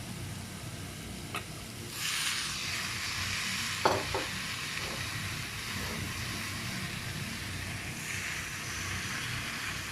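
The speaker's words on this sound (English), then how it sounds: "We have to fry the tomatoes till its raw smell disappears" Tomatoes frying with softened onions in a pan give a steady low sizzle for the whole stretch, with a few louder stirring scrapes and bursts near the middle.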